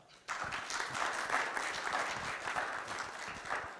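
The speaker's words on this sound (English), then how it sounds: "So let's give a big round of applause to Frank Cusumano." An audience breaks into applause to welcome a guest at a media talk, starting abruptly after a brief quiet moment and holding as steady, moderately close clapping to the end.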